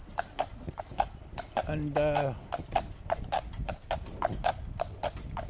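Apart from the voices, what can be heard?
Shire horse hooves walking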